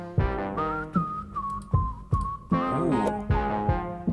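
A whistled melody in a song: clear, pure tones gliding between notes over a punchy, regular drum beat, prominent and close in the mix.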